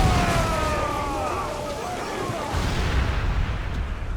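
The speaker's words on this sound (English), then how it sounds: "Uncork the cannons," Rumbling cannon fire and booming blasts from a ship battle in Assassin's Creed IV Black Flag, dense and continuous, with shouting voices faintly mixed in.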